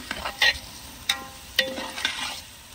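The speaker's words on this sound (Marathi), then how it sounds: "आपण कांदे असेच फ्राय करून घेऊ" Onions frying in a pan with salt, made for quail biryani, with a low sizzle and several sharp stirring scrapes and clanks of a spatula against the pan, with no talk.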